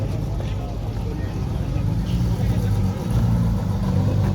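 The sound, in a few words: Porsche flat-six engines revving, warming up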